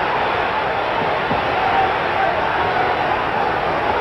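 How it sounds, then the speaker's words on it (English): Roaring heavyweight boxing crowd at the Ali vs Norton fight, a dense continuous wall of cheering and shouting that stays loud and steady throughout, with no clear single voice standing out. "The crowd is going absolutely berserk"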